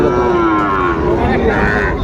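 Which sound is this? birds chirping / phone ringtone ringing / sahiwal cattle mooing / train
sahiwal cattle mooing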